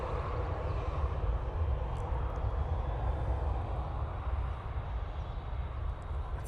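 A Boeing 737 jet at Manchester Airport in low visibility, a steady broad engine rumble held at moderate distance throughout, with no voices.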